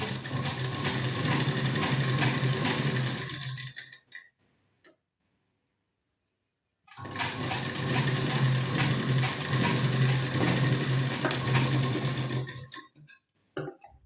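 A sewing machine runs at a fast, even rhythmic whir while stitching a blouse neckline, stopping for about three seconds of silence midway, then running again in a second long burst before halting.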